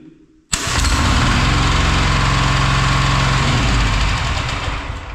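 A Bolat 7 hp diesel tiller, crank-started by hand, catches abruptly after a quiet moment and runs on in a loud, steady, close-up chugging idle.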